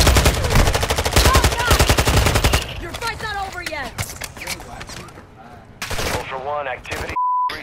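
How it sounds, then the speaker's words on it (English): Rapid automatic gunfire from the Call of Duty Modern Warfare 2 DMZ video game rattles loudly and continuously for the first few seconds, then gives way to scattered shots, game effects and a short beep under players talking. "I'm getting shot at."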